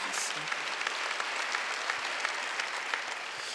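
Congregation at a Wednesday church worship service breaking into steady, dense applause, a wash of clapping that fills the room throughout with a few faint voices mixed in.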